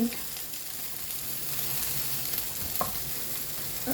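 Okra frying in a pan over medium flame on a small burner, a steady close sizzle running throughout with a few brief stirring clatters and no voices.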